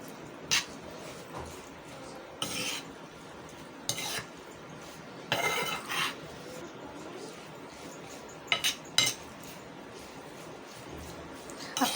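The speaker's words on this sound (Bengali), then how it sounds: "এখন আমি সবগুলো ভালো করে মাখিয়ে নেব।" Guava bharta is mixed with dried chili powder using a utensil rather than by hand, producing scattered scraping and clinking stirs against a bowl, close and intermittent over quiet room tone, with no talking.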